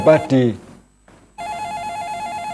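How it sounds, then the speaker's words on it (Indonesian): An incoming telephone call rings in a live broadcast studio, a steady, loud warbling ring that starts after a brief pause and continues alone, preceded by a short burst of talk. "mungkin ada telepon masuk, bisa diterima"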